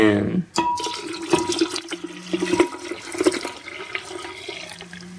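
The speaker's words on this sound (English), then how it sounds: "I would pour it in your jug, as well as what you have steeped in your pot" Brewed tea and water poured into a jug while making kombucha, a splashing, gurgling pour with uneven surges, heard alongside clatter.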